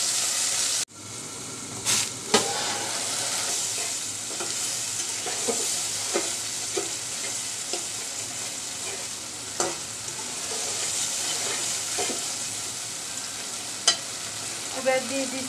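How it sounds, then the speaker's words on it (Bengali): Chili paste frying in a pan, with a continuous close hiss and sizzle broken by a few sharp spatula taps, and no talk. "মরিচটা কষিয়ে নিব।"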